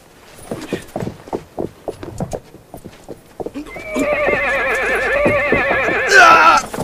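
A horse in a 1995 Japanese historical television drama clops along with steady, distinct hoofbeats, then gives a long, loud, close whinny that quavers and rises before fading.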